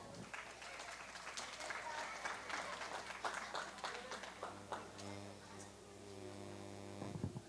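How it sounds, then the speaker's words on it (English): A crowd at a local livestock show claps for a heifer exhibitor, faint, scattered applause that thins out and gives way to a low steady hum, with a voice speaking over it. "Let's give him a nice round of applause."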